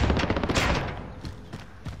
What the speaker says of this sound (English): Where is this shooting coming from?